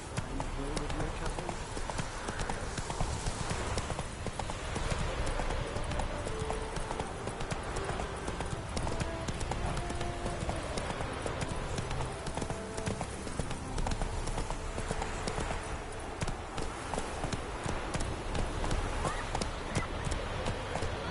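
Hooves of Geralt's horse Roach clip-clop steadily through Witcher 3, a continuous galloping rhythm running the whole stretch, with game voices and ambient music layered over it.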